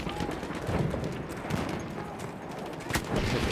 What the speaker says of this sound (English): I'm gonna use my mortar